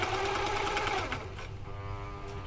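Semco 858 cover stitch machine running steadily at a moderate, even pace, its motor hum and rapid needle chatter continuous and close, then shifting to a lower, slower drone as it keeps stitching.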